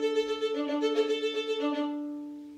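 Violin bowing a Schumann Scherzo excerpt on open strings only, a quick run of short, detached notes switching between a few steady pitches, fairly soft and close, then fading on a held final note.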